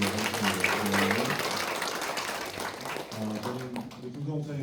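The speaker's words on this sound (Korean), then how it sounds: "한 번 더 감사의 박수 드리도록" Applause of thanks rises in a church education session as a soft, broad patter of clapping between stretches of someone speaking. The clapping fills the middle of the clip before the talking resumes.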